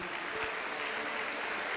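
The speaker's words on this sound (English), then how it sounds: "A very well-deserved round of applause for all of our retirees." Audience at a school district retiree appreciation banquet claps for the retirees, a steady, even wash of applause that stays fairly quiet and distant throughout.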